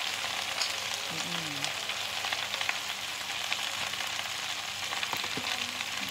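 Mixed vegetables with crispy pork stir-fried in a pan give a steady, dense sizzle that runs throughout, with occasional scraping stirs and faint background sounds.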